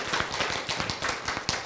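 A congregation at a Korean Bible lecture claps in a brisk, steady rhythm of many hands, moderately close and without talk over it.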